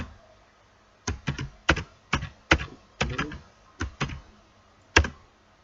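Keystrokes on a computer keyboard while writing HTML code, ending with a press of the Enter key; about eleven sharp, close clicks in uneven bursts against a quiet room.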